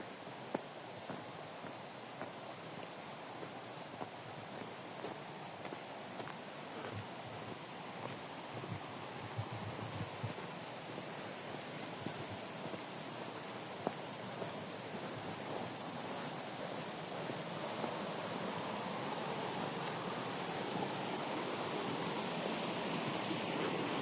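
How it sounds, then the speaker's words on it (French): A river in the forested Topes de Collantes nature park in Cuba rushes steadily, a dense, even wash of flowing water with no voices, continuous for the whole stretch. "La rivière, je vais me taire, vous allez entendre ça, c'est super agréable."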